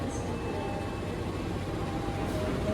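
Locomotive-hauled passenger train at a station in Java, a steady rumbling drone with faint high squeals, continuous and fairly close, with no talk.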